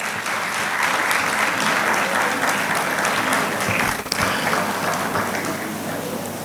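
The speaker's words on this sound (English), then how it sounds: "Please give him a round of applause." Sustained applause from a large audience at an annual law conference session, a thick, steady roar of clapping hands lasting several seconds, loud and close, with a brief dip partway through and no speech.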